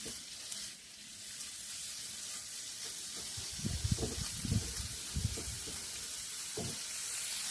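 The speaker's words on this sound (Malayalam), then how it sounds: "ഇതിലേക്ക് നമ്മൾ എടുത്തു വെച്ചിട്ടുള്ള ഈ കൂണ് ഒന്ന് പതുക്കെ ഒന്ന് ഫ്രൈ ചെയ്തെടുക്കാം" Mushrooms fry gently in coconut oil in a pan, a steady sizzling hiss with a few louder crackling bursts partway through as the pieces shift, close and alone without voices.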